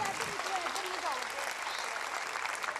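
A congregation at a pastor's healing service applauds, a dense, steady wash of clapping at moderate distance that holds evenly throughout, with faint voices underneath.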